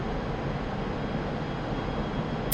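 Steady, droning aircraft engine in a flight simulator game with the throttle eased back, a continuous broadband roar holding even throughout with no talk over it.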